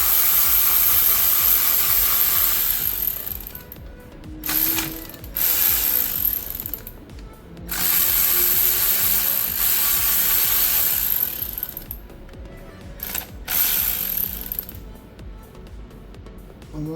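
A ratchet works loose the bolts on the oil pan of a ZF 8HP automatic transmission in a Range Rover Velar, with long runs of rapid clicking, close and loud, split by short pauses.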